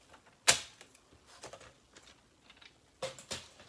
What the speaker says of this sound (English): Just trim those down a little bit.